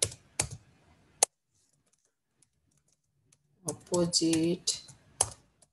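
A few sharp clicks of typing on a computer keyboard, sparse and close, separated by silence, with a short stretch of talking partway through.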